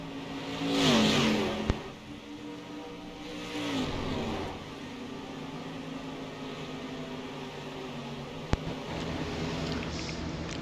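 Street stock race cars at Bristol Motor Speedway, with engines roaring past in two loud sweeping passes and then a steady drone of racing cars, plus a couple of sharp clicks.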